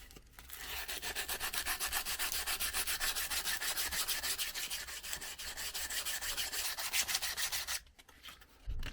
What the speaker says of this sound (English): let's get some sandpaper and let's start shaping this handle, make it look nice. Start with some 60 grit.